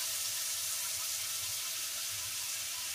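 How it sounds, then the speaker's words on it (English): Frozen bell pepper, onions and celery sizzle in a pot, a loud, steady hiss of frying that runs continuously with no talk over it. "I would normally have my vent on, but the sizzling is enough."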